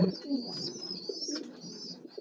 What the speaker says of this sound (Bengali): এদিকে পোস্টারের নিচে একজোড়া মুসল্লম কবুতর আছে